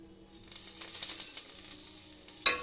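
Curry leaves frying in hot oil give a bright, crackling sizzle with rapid spits and pops, ending in a sharp louder burst near the close, with no talking.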